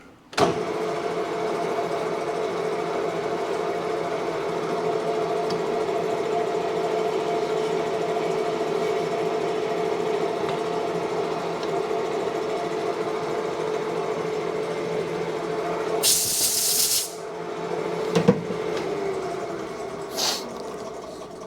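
A lathe machining a splined shaft runs with a steady motor hum and a faint tonal whine, close and continuous, with a few light metallic clinks toward the end.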